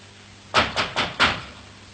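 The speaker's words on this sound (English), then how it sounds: "There's somebody at the door." Four quick knocks rap on a front door, sharp and close, evenly spaced in a short burst after quiet.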